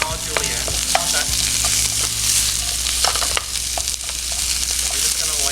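Julienned vegetables sweating in a hot pan, a continuous loud sizzle with frequent scraping stirs and clinks of a utensil against the pan, close up and without talk.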